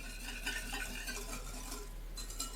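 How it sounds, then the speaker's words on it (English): A whisk goes round and round in a pan, stirring a warm sugar mixture until it is smooth. The scraping is continuous and near, and no one speaks. "Whisk smooth. Make sure there is no more grain of sugar."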